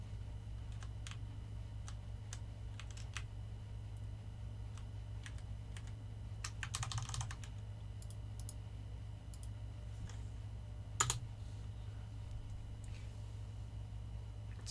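Soft, irregular clicks of keys being typed on a computer keyboard, faint and sparse over a low steady hum, with a brief louder clatter now and then.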